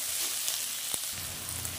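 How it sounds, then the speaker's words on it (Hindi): A pan of onions fries after burnt garlic for a Manchurian snack, giving a brief, steady hiss with a single sharp tap near the middle, and no voices. "देखिए लगभग प्याज भून गए हैं"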